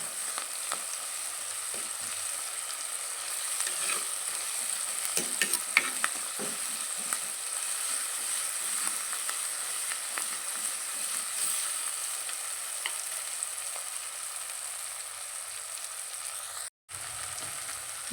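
Garlic, ginger and onions fry in a pan for a chicken and ash gourd curry, giving a steady close sizzle with scattered stirring scrapes throughout and a brief dropout near the end, with no talking.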